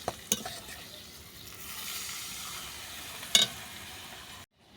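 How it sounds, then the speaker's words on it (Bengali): Potatoes and tangra fish roe fry in a pan while being stirred, a soft continuous sizzle broken by a few sharp utensil clicks and scrapes near the start and middle, then abruptly cut off. "এবার আমি দেবো আলু আর মাছের ডিম। এটা আমি এবার একটু নেড়ে ছেড়ে"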